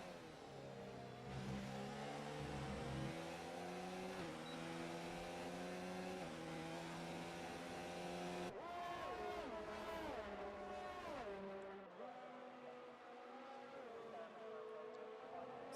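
A Toro Rosso Formula 1 car's engine in the F1 2019 video game, racing in Italy, gives a loud, continuous high-pitched whine that climbs and drops in pitch through gear changes and lift-offs.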